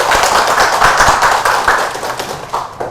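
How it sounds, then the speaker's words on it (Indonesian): An audience at a community gathering claps loudly and close, a brisk run of overlapping hand claps with a few heavier hits, fading a little near the end. "Tepuk tangannya Ibu."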